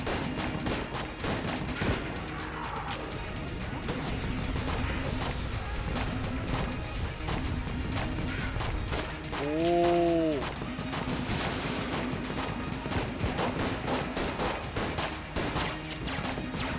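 Constant dense rapid gunfire and crashes from the bullet-hell game Enter the Gungeon, a steady clattering barrage lasting throughout, with a brief tonal chime partway through.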